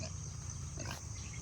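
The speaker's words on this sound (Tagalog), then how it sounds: "Baboy damo." Wild pig grunting on a mountain walk among fallen mangoes, with low rough snorts over a steady outdoor hiss and high insect drone, brief and moderately close.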